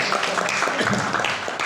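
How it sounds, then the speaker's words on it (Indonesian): Brief scattered clapping from an audience at a teachers' training session, a short burst of applause lasting under two seconds with some murmuring. "tepuk tangan"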